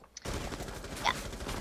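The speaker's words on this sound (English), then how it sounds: "Oh, you're getting shot at." Video game gunfire comes in as a sudden dense, continuous rattle of shots after a brief quiet start, loud and unbroken with one sharper burst partway through.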